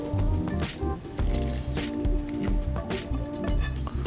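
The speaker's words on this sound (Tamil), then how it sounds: "இதை நம்ம இந்த தாளிப்பா அப்படியே நம்ம இந்த மாவில் கொட்ட போகிறோம்" Hot curry leaf tempering is poured into idli batter made with coconut milk, giving wet squelching and sizzling crackles with dripping, splattering bursts close up.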